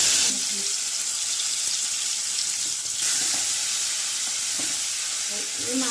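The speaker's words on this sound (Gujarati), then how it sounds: "આપણે વઘારમાં આદુ, મરચું, લસણ અને ઘી." Ginger, chili and garlic sizzle in ghee for a tempering, a loud, continuous hissing fry with a few faint clinks, close up and steady throughout.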